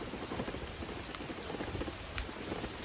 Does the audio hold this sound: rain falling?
yes